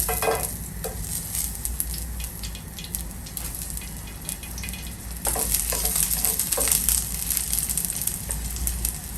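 Chicken thighs hit a hot pan and sizzle steadily, the frying growing louder partway through as more pieces go in, with occasional scraping and crackles close by.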